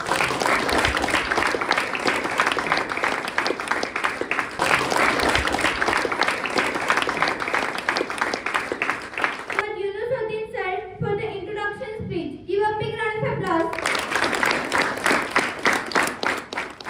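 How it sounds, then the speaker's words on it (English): Audience applause from management and students at a student event, steady dense clapping that breaks off midway for a few seconds of voices talking, then resumes at full strength to the end. "So give a big round of applause"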